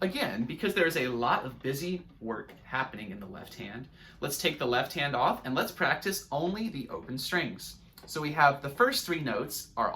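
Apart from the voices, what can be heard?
No distinct noise like a dog, phone or traffic.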